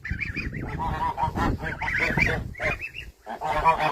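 Several adult farm geese tending goslings honk loudly and repeatedly at close range, their nasal calls overlapping in an excited, continuous chorus.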